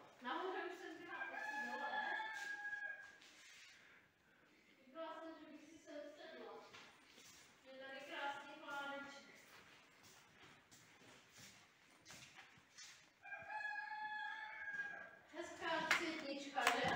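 A rooster crows several times in a timbered medieval village near Bystřice nad Pernštejnem, its drawn-out harmonic calls rising over soft background chatter and people talking.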